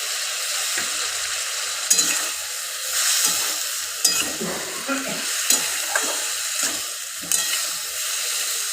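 Cumin paste being sautéed in a pan for a fish curry with drumsticks and potatoes, a steady close sizzle and fry hiss with repeated scraping stirs and occasional clinks throughout.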